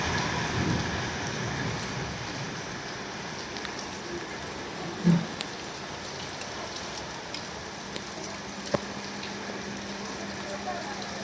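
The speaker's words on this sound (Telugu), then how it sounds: "ఇక్కడ భారీ వర్షం కురుస్తుంది" Heavy rain falling in Tirupati, a steady, moderately loud wash of downpour with a brief low thud near the middle and a sharp click later.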